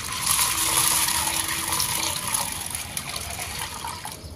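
Water is poured steadily into a bowl holding 500 grams of chana dal for soaking, a continuous gushing fill at close range that runs the whole time with no talking.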